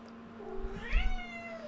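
A cat gives one drawn-out rising and falling meow, close and clear, over a steady low electrical hum, with no talk.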